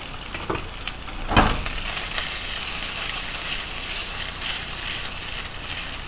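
Polenta frying in butter in a pan, a continuous soft sizzle with a few scraping stirs and a sharper clatter early on, close and without talk.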